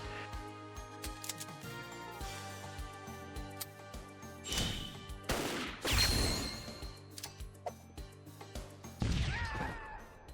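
Sync shot attacks in the Metal Slug Tactics video game: a flurry of gunfire, crashing impacts and bright metallic bursts layered over a pulsing game music bed, with louder hits near the middle and end.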